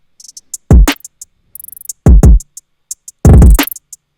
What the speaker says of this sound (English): It's a hi-hat, a kick, and a snare.